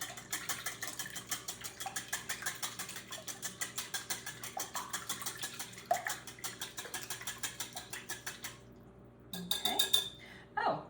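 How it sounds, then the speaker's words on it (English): Eggs and vanilla are whisked in a bowl for a birthday cake, making a fast, steady run of close clicking taps against the bowl, a short pause, then a brief clattering burst. "we are going to just whisk that together really well"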